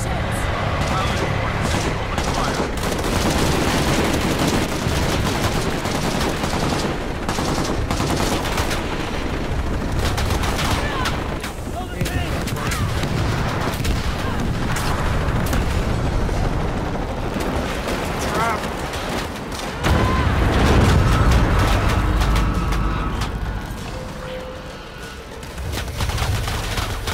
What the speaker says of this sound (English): Not appreciating getting shot at.